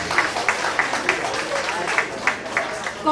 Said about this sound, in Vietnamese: Quý vị bộ tràng pháo tay cho cô Tuyết Anh.